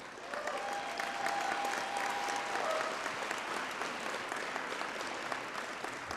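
A school district's special recognition night crowd gives a sustained round of applause for science winners, dense steady clapping from many hands throughout, with a faint tone briefly audible early on.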